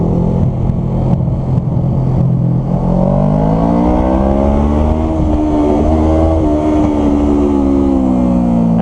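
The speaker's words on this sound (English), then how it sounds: "some guy in a fucking Volkswagen van that wants to pass us" A Volkswagen van engine rises in pitch as it accelerates past a motorcycle, a loud close drone that climbs and sweeps over several seconds under the bike's steady rumble.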